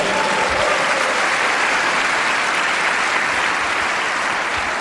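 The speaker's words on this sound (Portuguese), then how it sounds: "Quem recebe aí pode dar um aplauso ao Senhor" A church congregation gives a loud, sustained round of applause during a worship service, dense even clapping filling the room without a break and with no speech over it.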